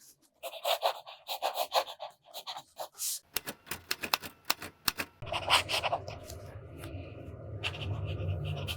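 A broad-nib Sailor Shikiori fountain pen scratches across paper in Yonaga ink, making a quick run of short close strokes that turns to fainter scratching beneath a steady background hum.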